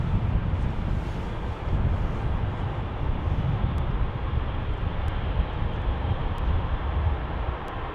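A passenger jet airliner on approach to runway 34 left at Salt Lake City airport gives a loud, continuous, broadband engine roar that holds steady throughout, heard from outdoors.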